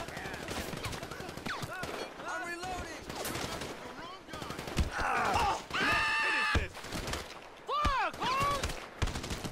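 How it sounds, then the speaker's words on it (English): Gunfire in GTA 5 director mode, rapid bursts and scattered shots mixed with shouting, groans and other game sounds in a busy, chaotic scene. "Why are they all shooting at me?"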